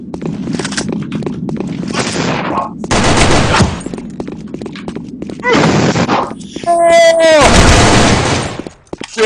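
Rapid gunfire bursts in the Sudden Attack shooter, loud repeated volleys with gaps between them, heard under excited talking and game effects.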